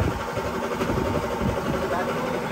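A toy motorcycle engine runs with a steady, buzzy idle and a rough mid-range drone under close family chatter.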